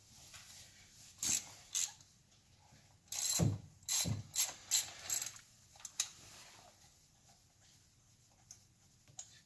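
A socket ratchet turning while a spark plug is removed from a 2001 Honda CR-V engine: several short bursts of close, crisp clicking separated by pauses.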